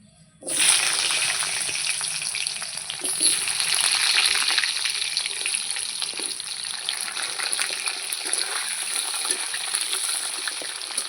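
Diced potatoes go into a hot pan of oil with tempered spices for a Bengali chorchori, erupting into a loud, steady sizzle that starts suddenly and keeps crackling and hissing close by with no talking.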